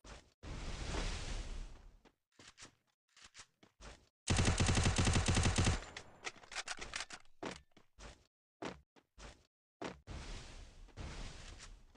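Gunfire rattles in a mobile shooting video game, with long bursts of automatic fire and scattered single shots separated by gaps, loud and close with no talk.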